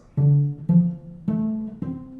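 Four low, bowed cello notes played one after another, each sustained and rich, outlining a minor seventh chord in a slow, even rhythm.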